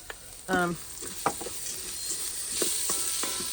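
Seeded jalapeno and a small orange snacking pepper brown in an Instant Pot for Mexican-style rice, a soft steady sizzle broken by a few sharp utensil clinks and stirring scrapes.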